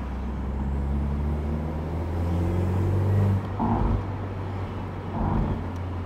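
A BMW Z4 convertible with about 67,000 km on the odometer drives along, its engine droning loudly and steadily from inside the cabin, swelling and dipping slightly as it changes speed, with wind and road rumble underneath.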